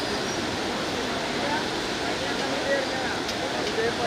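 Floodwater of the Kosi river in Bihar rushes past after an embankment breach, a dense, steady roar of churning water that stays loud and continuous throughout.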